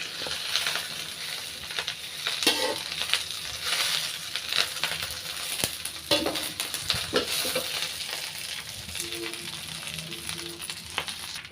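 Curry leaves fry in a pan for homemade curry leaf powder, a steady crackling sizzle with scattered sharp pops and stirring scrapes throughout, close and fairly loud, no talking.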